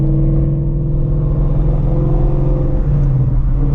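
A Shelby GT350 Mustang with an aftermarket exhaust holds a steady, loud, deep rumble at a constant pace, a smooth drone with no sharp revs, heard alone with no one talking.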